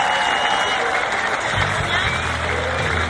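Crowd at the Arnold Classic strength competition in Canada applauding in a loud, steady roar of clapping and noise, with an announcer's voice cutting in partway through.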